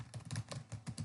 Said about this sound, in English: I'm just typing as though it is the text editor